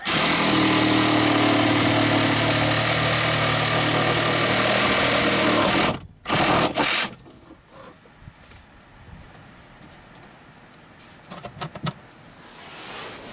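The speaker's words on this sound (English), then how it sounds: "Now I cut the temporary spreader bar." A saw, probably a chainsaw, cuts through a temporary timber spreader bar during timbering work. The engine roars steadily for about six seconds, then cuts out abruptly, with a short revving burst and scattered clunks afterward.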